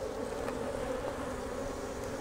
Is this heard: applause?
no